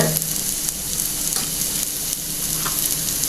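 Onions sauté in a hot pan with turmeric powder just added, giving a steady, close sizzle with faint stirring scrapes throughout and no voices.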